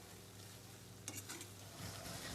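Ginger garlic paste sizzles steadily in a hot pan for a vegetable dum biryani, with a brief scrape of stirring partway through; close and fairly quiet, no voices.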